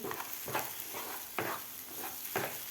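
Egg bhurji sizzles in a pan over medium gas while a spoon stirs and breaks it up, giving five or six rhythmic scraping strokes over a steady close sizzle.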